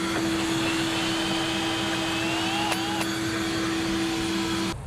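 A drill bores a pilot hole through a pontoon boat deck, a loud, steady motor whine with a constant pitch that runs close and unbroken before cutting off abruptly at the end.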